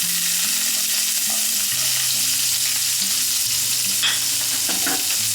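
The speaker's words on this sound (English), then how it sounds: "we're just going to saute that up for a minute, just till it gets nice and translucent and soft" Diced onion sautés in a pan for a Bengali-style pomfret fish curry, giving a loud, steady, close sizzle with a few stirring clinks near the end and no voices.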